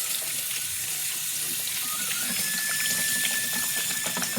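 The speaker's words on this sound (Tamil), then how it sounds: "சில்லுன்னு வரா தண்ணி" Cold water from a kitchen tap running steadily while washing up during cooking, a constant bright hissing splash close to the microphone, unbroken for the whole stretch.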